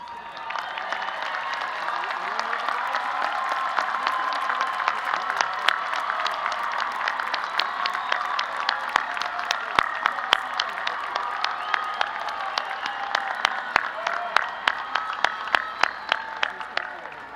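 Audience at a university commencement gives steady, broad applause for graduating honors students, a continuous wash of many hands clapping for over fifteen seconds, with a few crisp nearby claps standing out toward the end.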